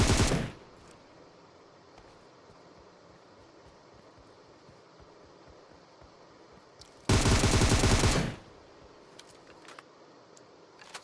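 Automatic gunfire in the PUBG battle-royale video game, two loud dense bursts, a short one at the start and a longer one about a second long later, with quieter game ambience between.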